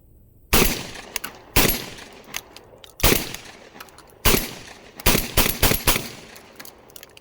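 A Mac 1014 shotgun, a Benelli M4 clone, fires outdoors: loud, sharp gunshots, first spaced singly about a second apart, then a rapid cluster of several shots near the end.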